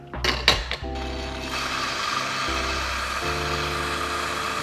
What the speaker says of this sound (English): you just want to purge 1 or 2 shots of coffee through the grinder until you can no longer see any of those tablets being ground